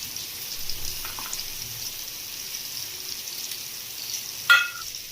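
Stuffing for a spiced kantola (spiny gourd) bharit frying in oil, a faint, steady sizzle throughout, with a short clink near the end.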